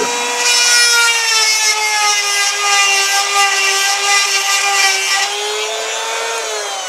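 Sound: grinder on a metal bearing surface

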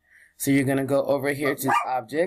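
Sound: dog barking in the background

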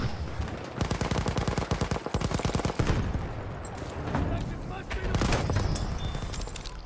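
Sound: rifle and machine gun fire in video game Battlefield 1

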